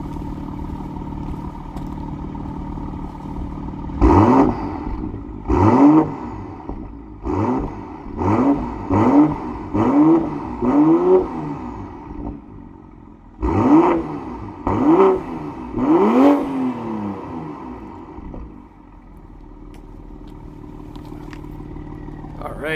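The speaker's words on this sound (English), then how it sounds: "M Performance exhaust sounds wicked" 2026 BMW M340i 50 Jahre Edition with M Performance exhaust, idling and then revved repeatedly in short, loud, rising blips, about nine in total, in two bursts, each falling back to a deep idle.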